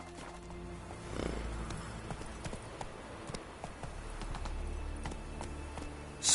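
Roach, a horse in The Witcher 3 video game, gallops with steady rhythmic hoof clops, moderately close and fairly quiet over a soft ambient background.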